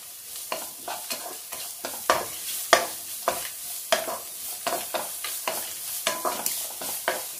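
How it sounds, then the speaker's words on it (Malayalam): Chopped aromatics sautéing in ghee in a pan, with a steady soft sizzle under regular scraping stir strokes roughly every half second, close and moderately loud, with no talking. "നമുക്ക് നന്നായിട്ടൊന്ന് വഴറ്റിയെടുക്കാം."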